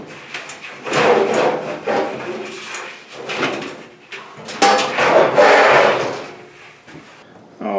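The drum of a Samsung DV45H7000EW dryer, held by its drive belt, is lifted and slid out of the cabinet, giving close wooden-sounding thumps, scraping and rubbing knocks that continue steadily for several seconds.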